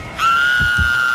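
A character in the horror game Dead by Daylight screams in a sustained, high, wavering cry that starts abruptly and holds loud and close for about a second.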